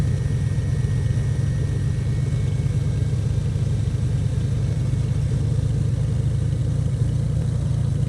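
A Beechcraft B58 Baron twin piston engine in the X-Plane 12 flight simulator runs with a steady, loud, low rumble that holds even throughout, with no voices over it.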